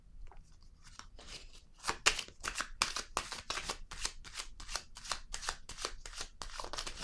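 Tarot cards shuffled and laid down in a quick run of crisp, papery flicks and slaps, close and steady over about seven seconds, with no voices.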